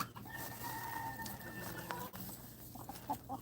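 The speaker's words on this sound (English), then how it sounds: "It's one of the roosters." A rooster crows in a long drawn-out call amid steady barnyard noise, with clucking fowl and faint background hum, no speech.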